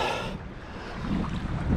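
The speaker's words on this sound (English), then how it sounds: "It's a little breezy out this morning." Outdoor morning breeze buffets the microphone in a broad, gusty rush near the water, swelling and easing over a couple of seconds without any voices.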